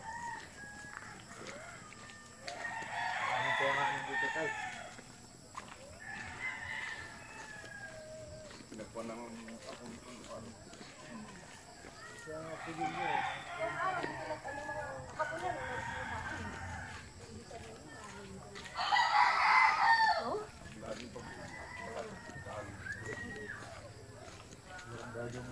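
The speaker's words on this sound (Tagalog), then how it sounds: "To farm ng manok, fighting cock." A fighting cock rooster crows several times at a chicken farm in Tanay, Rizal, the calls rising over outdoor background noise with people talking nearby.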